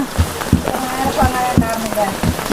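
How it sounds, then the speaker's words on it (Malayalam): Rain falling steadily outdoors, a dense hiss of drops on surfaces with a few heavier splashes, while someone talks over it nearby. "ഇത്ര നേരം മഴ പെയ്തിരുന്നില്ല ഇതാ ഇപ്പോഴാണ്"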